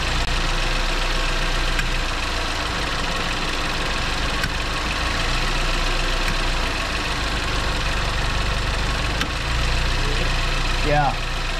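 A 2015 GMC Terrain engine idles steadily and close while the transmission is cycled through the gears during a fluid change, a constant low rumble with faint clicks and people talking nearby.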